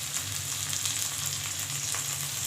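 Garlic paste fries in oil after onion paste, a steady close sizzle with light crackle throughout.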